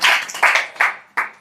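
Church congregation at a Telugu Christmas sermon clapping hands together in a few sharp, rhythmic bursts, roughly evenly spaced and close by.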